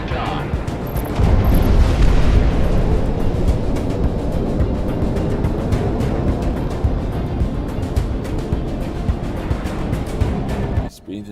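Cargo blown apart by air-to-ground missiles in Project Wingman, a long loud rumbling roar of explosions sustained for several seconds before cutting off sharply, with some talk underneath.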